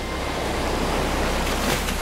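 Ocean waves in the Uncharted video game make a steady, close rush of surf, a continuous wash of water with no talk.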